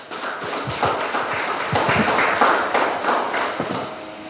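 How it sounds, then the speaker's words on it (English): People at a community stakeholders' meeting with the police commissioner in Bartica give a round of applause, a steady patter of many hands clapping at moderate volume, with no talking over it. "give yourself a round of applause"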